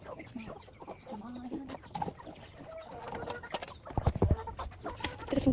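Chickens cluck softly nearby while pecking at feed, their short calls scattered among light taps and scuffles, growing busier toward the end.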